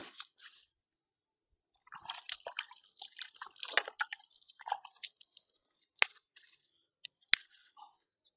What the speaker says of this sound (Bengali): কলা পাতাটাকে কেটে নেব